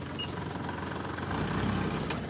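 Tractor engine with an emissions system, running as a steady low idle rumble that swells slightly louder toward the end, with no talking.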